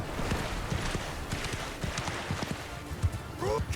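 Horse hooves clip-clop at a rapid gallop in Mount & Blade II Bannerlord, a battle in a medieval combat game, dense irregular beats throughout with a short whinny-like tone near the end and faint game noise behind.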